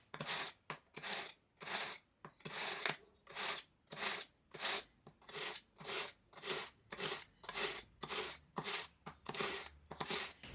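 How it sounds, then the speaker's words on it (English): A cheap Chef's Choice two-step manual sharpener works a kitchen knife, with about twenty steady, evenly spaced rasping pull strokes grinding close and clear with no voices. "I'm going to go ahead and sharpen my knife."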